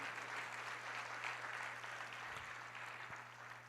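A church congregation applauds in a steady, even wash of clapping, faint and somewhat distant, with a low hum beneath and no clear voices.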